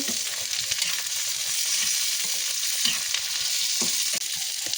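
Tomatoes cooking in a pan for a greens curry, a continuous loud frying sizzle with scattered low stirring knocks against the pan.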